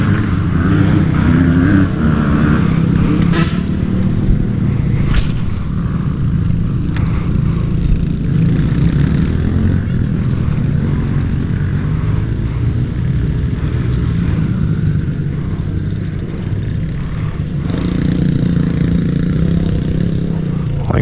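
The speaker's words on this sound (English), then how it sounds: "there's bikes flying up and down everywhere." Dirt bikes ride up and down nearby at a lodge on a fishing and dirt-bike weekend, their engines droning loudly and steadily throughout with rising and fading passes and no voices.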